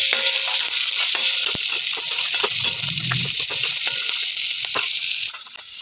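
Onions and chillies sizzle loudly in a pan, a close, continuous hissing fry with scattered crackles and pops, cutting off abruptly near the end.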